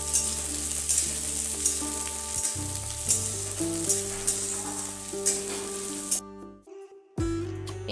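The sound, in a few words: onions frying in a pan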